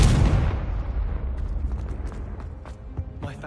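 A Confringo spell explosion in Hogwarts Legacy on PS5 bursts loudly and close at the start, then decays into a rumbling tail with scattered small crackles and pops.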